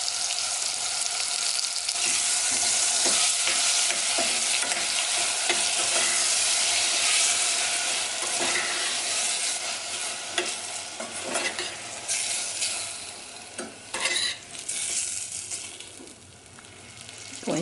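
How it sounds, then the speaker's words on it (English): Two large plum tomatoes sizzle loudly in a hot frying pan for an eggplant curry, with steady hissing and occasional scraping stirs, close and without talk. "I'm going to add tomatoes. I have 2 large plum tomatoes."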